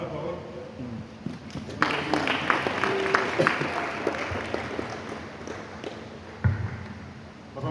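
Audience applause at a French-language Christian sermon, a broad wash of clapping that swells in after a couple of seconds and keeps going steadily, with a voice breaking in near the end.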